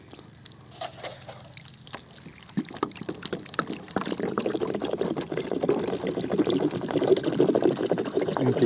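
Water pours and splashes out of a plastic jug at an outdoor shooting range, starting faint with a few drips, then building into a steady, louder gurgling stream in the second half.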